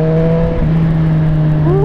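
A Yamaha FZ-09 motorcycle with an Arrow full exhaust runs loud and close, holding a steady engine tone before the revs climb briefly near the end, with no talking.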